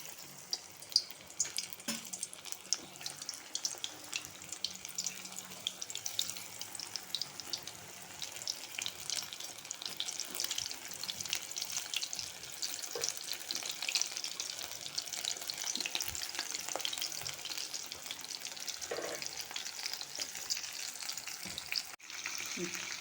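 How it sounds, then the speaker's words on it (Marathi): Marinated prawns koliwada fry in hot oil with a steady, bright, close-up crackle that goes on at an even level for a long stretch, with a few faint clinks and a short break near the end. "तर माझं आता हे तेल तापलं आहे. त्याच्यामध्ये मी हे सुद्धा मॅरिनेट चांगले झाले आहे. मी प्रॉन्स कोळीवाडा हे सोडून घेते."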